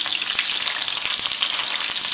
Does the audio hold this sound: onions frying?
yes